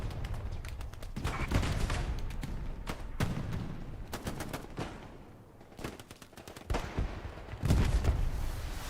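Machine gun fire in Hell Let Loose battle at Remagen's Ludendorff Bridge, dense rapid bursts of automatic shots and distant gunfire crackling continuously, loud and overlapping with a brief lull midway.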